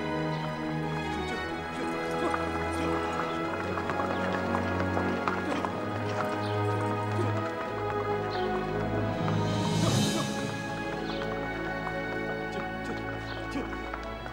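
Horses moving off at a trot with steady clip-clopping hooves, set against a continuous bed of music and ambient noise, with no clear talk over it.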